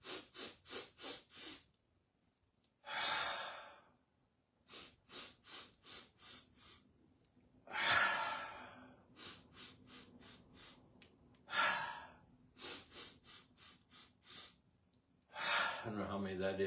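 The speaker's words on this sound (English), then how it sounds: "6 breaths in through the nose, very short" A person takes series of short, rapid sniffing breaths in through the nose during a breathing exercise, in bursts of six or so, separated by longer, louder exhales and sighs. The sounds are close and clear against a quiet room.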